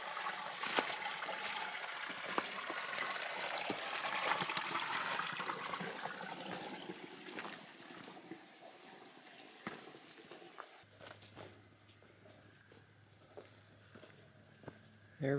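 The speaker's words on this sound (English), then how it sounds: "there's a little creek down here, and definitely sounds like there's water in it" A small creek on the Ouachita Trail gives a steady soft wash of flowing water, fairly distant, with light patter and occasional footsteps on the trail.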